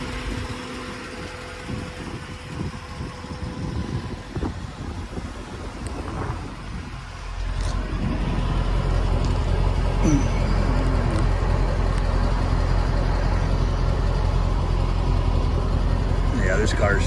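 A 1992 Corvette LT1 convertible with a six-speed and very low mileage idles with its air pumps running, a steady low engine rumble that grows fuller partway through, with some wind noise and people talking nearby.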